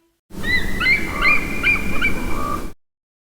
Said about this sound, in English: Wanna hear a real bald eagle's cry?